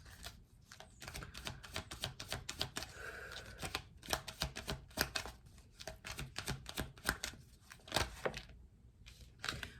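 Angel Answers oracle cards being shuffled produce soft, rapid riffling and flicking bursts that repeat unevenly, quiet and close, with no talking.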